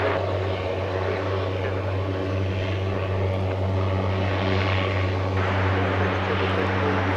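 A propeller cargo plane at DFW Airport drones steadily and loudly, its engines giving a constant low hum with a rough buzzing tone that holds throughout.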